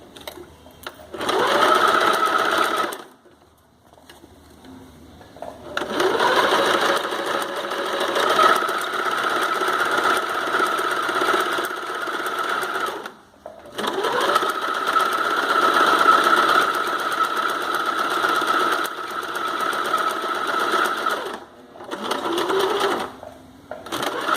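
Home sewing machine stitching a bikini seam with a full molded cup, long loud close runs of steady humming clatter, broken by brief near-silent pauses between passes.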